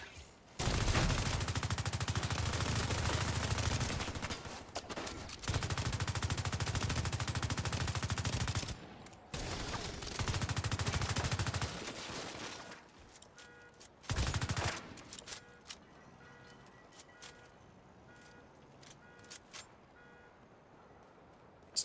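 Sustained automatic gunfire rattles through a video game shootout in long loud bursts separated by short gaps, then thins into scattered single shots and quieter game sounds.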